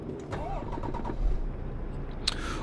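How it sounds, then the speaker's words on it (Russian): A Temsa Safir Plus 2018 bus engine starting in Euro Truck Simulator 2, a low mechanical rumble with a brief cranking rise and sharp click-like transients, fairly quiet and steady. "И давайте включать уже двигатель,"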